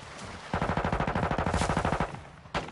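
A long rapid burst of automatic gunfire in a first-person shooter video game, evenly spaced shots hammering for about a second and a half, then a single sharp shot after a short pause.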